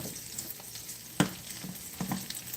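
Wraps searing in a hot pan give a steady sizzle with a sharp crackling burst just past the first second and a few smaller pops after, close and fairly quiet, with no voices.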